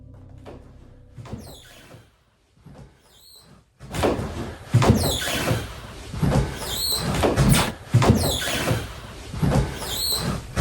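Floorboards creaking during a paranormal investigation in an old building, with a few sparse early creaks followed by longer, louder groaning squeaks, close by and repeated, with no one speaking.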